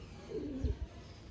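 A single short, low coo from a female Sialkoti breeder pigeon, followed by a couple of soft thumps, faint against a quiet background hiss.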